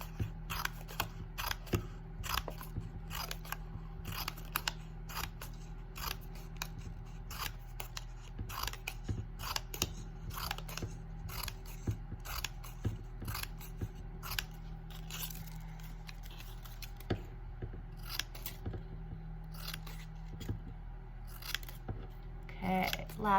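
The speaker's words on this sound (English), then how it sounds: "So I'm just gonna make a whole bunch of small little cuts right close together" Scissors snip a long run of small, closely spaced cuts along a sheet of paper to make a fringe, each crisp click following quickly after the last in a steady, uneven rhythm.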